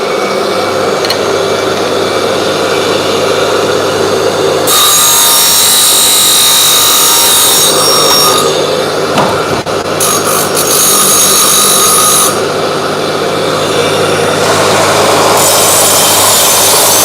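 A power saw cutting the tip of a golf club shaft, a loud, continuous whine that starts after a few seconds and runs with brief pauses over a constant workshop motor hum.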